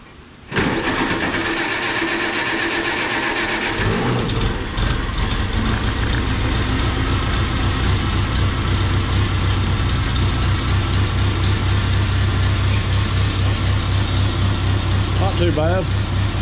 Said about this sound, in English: let's do a cold start on the Cub